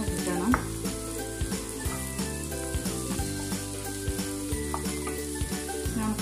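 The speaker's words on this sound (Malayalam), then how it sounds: "നമ്മൾ ഉള്ളി വഴന്നുകൊണ്ടിരിക്കുകയാണ്." Onions sautéing in a pan for a South Indian tomato kara chutney, a steady close sizzle with occasional stirring clinks and scrapes, no voices.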